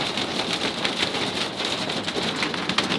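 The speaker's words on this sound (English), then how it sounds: "There's huge hail bouncing off the front of the bus." Dense, steady pattering of large hail drumming on a bus's metal and glass, continuous and loud with no pauses.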